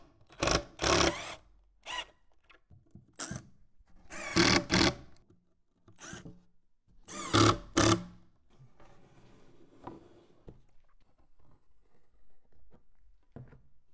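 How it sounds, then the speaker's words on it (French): Cabinet panels are screwed together during workbench assembly, with bursts of a drill-driver whirring in short runs separated by quiet handling sounds and light rubbing. "Appliquez un peu de colle sur votre assemblage et vissez-le."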